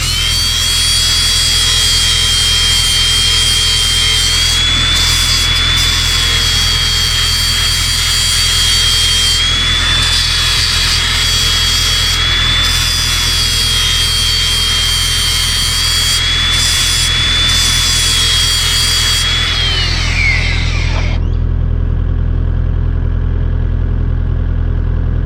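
A power tool grinds steadily against metal blades during sharpening, a loud continuous whine with a sustained tone that runs for about twenty seconds, briefly dips a few times, then cuts off and leaves a low hum.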